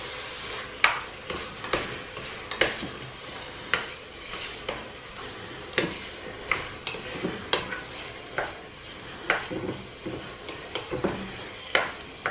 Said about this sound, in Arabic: نحرك